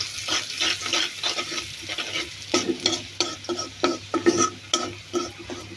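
Turmeric powder and green chilies fry in a pan while being stirred: rhythmic scraping strokes of the spoon sound over a constant, close sizzle.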